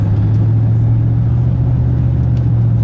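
Andrea's truck engine drones in a loud, steady low rumble from inside the cab as the gas pedal is pressed, with no talking over it.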